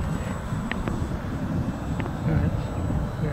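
A model FW190 aircraft flying at just over half throttle, its engine a steady droning hum blended with wind buffeting from the outdoor setting.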